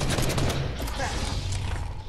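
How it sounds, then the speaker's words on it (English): Dense rattling volleys of gunfire from a video game skirmish, loud and continuous across two seconds with overlapping shots, while a player's voice talks over it. "Oh, he's shooting."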